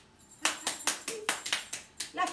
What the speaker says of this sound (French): Elle s'applaudit elle-même.